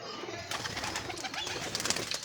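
Domestic pigeons in a loft, including a white-eyed bird and a pair, giving soft repeated coos and calls that run steadily through the clip at close range, with no voices.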